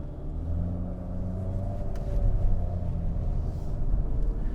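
A 2021 Nissan Altima VC Turbo SR with its 2-liter turbocharged engine accelerates, giving a steady, fairly loud low rumble that swells slightly midway, with no voices.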